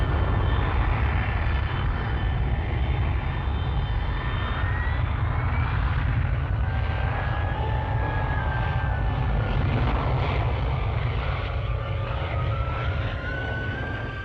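A Kestrel jump jet taking off from a temporary field, a loud, steady jet engine roar with rumbling lows and shifting whining tones that holds throughout.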